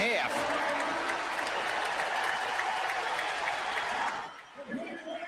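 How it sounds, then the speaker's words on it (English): A stadium crowd roars for a home run that may have struck a warehouse at an MLB ballpark, a loud, dense cheer holding steady for about four seconds before dropping off sharply into scattered crowd noise. "you hear the pop of the crowd"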